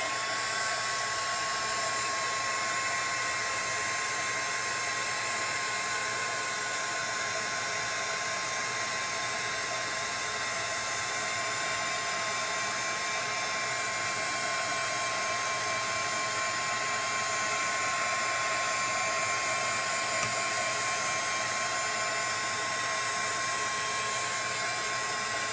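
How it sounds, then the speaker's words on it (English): A heat tool blows a loud, steady whirring roar at close range, warming embossing powder and glitter into glue, continuous throughout with no voices. "we're going to heat it back up just to get that glitter to stick"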